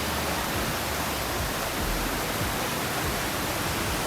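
A waterfall fed by the Gosaikunda lakes, a dense, even roar of falling water, loud and unbroken throughout with no voices.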